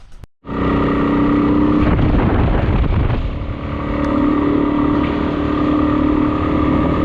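A loud motorcycle engine revs up suddenly and keeps roaring close by, rising and dipping in pitch as it idles and throttles.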